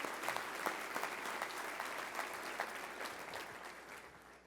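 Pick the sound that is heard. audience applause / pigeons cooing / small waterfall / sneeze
audience applause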